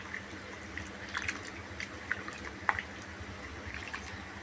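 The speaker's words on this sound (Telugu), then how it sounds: "సో ఇలా పులుసు వేసుకోండి" Tamarind juice is added to a masala eggplant curry: faint, sparse liquid drips and small splashes land irregularly over a quiet background.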